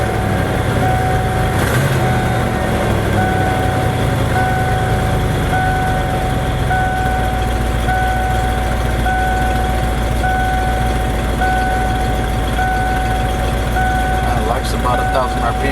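After a fuel pump repair, an engine catches and settles into a loud, steady idle, with an intermittent electronic beeping tone and voices heard over it.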